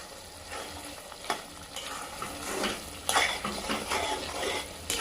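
Mushroom curry sizzles in a pan, with a spoon stirring and scraping against the metal in repeated strokes and soft clinks, close and fairly quiet, with no talk.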